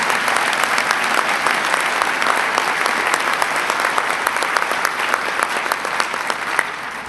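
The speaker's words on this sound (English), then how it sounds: "Give him a round of applause, Howard Zemsky." Audience applause for Howard Zemsky at a New York State announcement of a high-tech manufacturing complex: dense, steady clapping from a large crowd, loud and sustained throughout with no talk over it.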